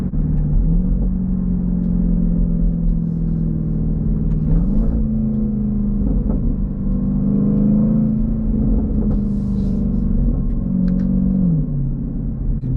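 Jeep Trackhawk exhaust rumbling steadily and close, the deep drone rising and falling through several throttle changes, with a few faint crackling pops breaking in.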